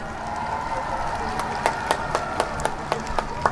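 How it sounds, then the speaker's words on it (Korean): Scattered applause from the crowd at a youth influencer festival opening in Sacheon, with a few distinct sharp claps standing out near the end over a steady murmur of background noise. "여러분 다시 한번 뜨거운 박수 부탁드리겠습니다."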